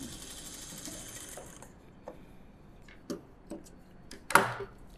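A sewing machine runs a short, fast burst of stitching on the front cup of a blouse, then stops and leaves a few light clicks and taps from handling the fabric at close range.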